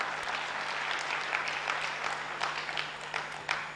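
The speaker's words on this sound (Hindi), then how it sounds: "भाई तालियां तो बजाइए।" Audience applause at a talk fills the hall, a dense, steady clapping with a few sharper claps near the end, heard alone over a faint low hum.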